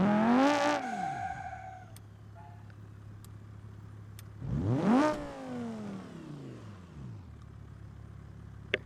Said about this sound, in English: can almost hear the turbo a little bit in the background